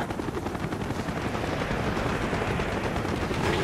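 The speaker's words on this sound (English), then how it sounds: "Taking AAA fire from the deck!" Anti-aircraft fire from a ship's deck in Call of Duty Black Ops, a dense, loud, continuous barrage of rapid bursts and rumbling booms filling the air without a break.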